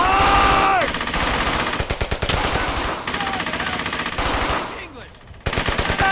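Sustained rapid machine gun fire in the World War II shooter Brothers in Arms: Hell's Highway, loud, close bursts of dense rattling shots, with a brief pause and whooshing effects before firing resumes.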